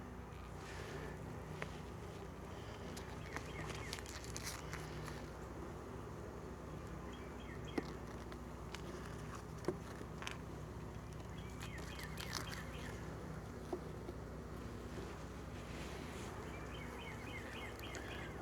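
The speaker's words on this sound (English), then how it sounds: "Lots of bees, so obviously they're hatching out." Honey bees buzz around an open backyard hive during a summer brood inspection, a faint continuous drone at close range with occasional light clicks and knocks and no talk.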